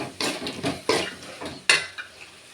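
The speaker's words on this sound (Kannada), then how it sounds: "ಲಾಸ್ಟ್ಗೆ ಕೊತ್ತಂಬರಿ ಮತ್ತು ಸ್ವಲ್ಪ ಕಾಯಿ ಹಾಕೋಣ. ಕಾಯೆಲ್ಲ ಈ ಥರ ಫ್ರೈ ಮಾಡಿ" Grated coconut and coriander being fried in a pan for tamarind rice, with several distinct metal spoon scrapes and clinks against the pan over a light sizzle, close up and no talk.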